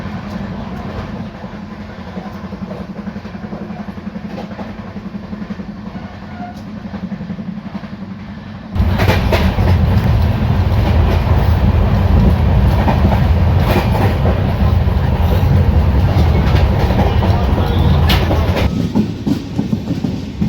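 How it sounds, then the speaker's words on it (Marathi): The 22944 Indore–Daund Superfast Express runs at high speed through Dehu Road station without stopping. A steady loud rumble and wheel clatter swell sharply partway through and stay heavy to the end, with no voices. "काय जबरदस्त स्पीडनं आपली गाडी देहू रोड हे स्टेशन स्किप करत आहे"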